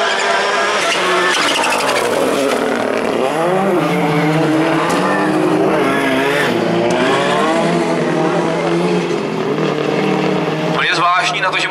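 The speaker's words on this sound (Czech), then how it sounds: "zahrabali přední kola, auto se pomalu odlepilo ze startu" A four-wheel-drive touring race car launches from the start with its front wheels spinning, engine wailing loud and close while tires squeal and other cars rev nearby, over crowd and commentary-like voices.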